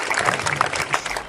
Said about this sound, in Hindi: एक बार जोरदार तालियां हो जाए यादव जी के लिए।